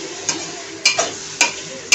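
Brinjal and other vegetables fry in a pan with turmeric and coriander powder for vangi bhat, a faint sizzle broken by four sharp spatula clicks as they are stirred.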